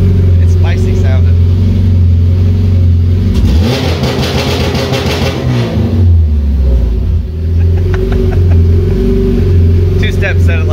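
Honda DC5 engine held on a two-step launch limiter at about 4,000 rpm, a steady loud popping drone with a brief rev swell in the middle, under someone talking.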